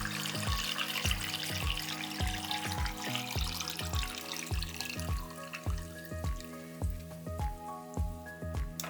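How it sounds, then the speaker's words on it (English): Water poured onto leftover clay pottery trimmings, with a steady series of regular wet drips and splashes alongside a continuous trickle, close and moderately quiet. "And then I add water to it."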